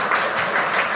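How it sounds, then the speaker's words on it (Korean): A church congregation at Sunday worship breaks into brief, dense applause, many hands clapping together in a continuous burst. "우리 격려의 박수를 한번 보내주시면 좋겠습니다"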